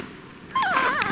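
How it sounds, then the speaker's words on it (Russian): A Pomeranian spitz, trembling with fear on a snowy forest walk, lets out a high wavering whimper that rises and falls in a couple of short plaintive cries after a quiet outdoor lull. "Сама трясется и скулит."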